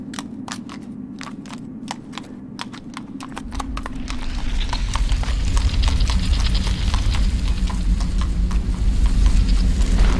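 Horse hooves clip-clop in Shadow of the Colossus as the reluctant horse moves: sparse, distinct hoof strikes at first, then a faster, denser run of steps over rising ambient noise, with no voices.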